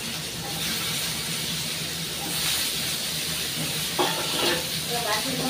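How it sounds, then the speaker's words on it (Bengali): Mangoes dropped into hot tempered oil for chutney hiss and sizzle in a steady, loud wash, with a few crackles and pops near the end. "এইদিকে আমার চাটনির তেলটা গরম হয়ে গেছে, ফোড়নটা হয়ে গেছে। এবার আমি আমগুলো দিয়ে দিই।"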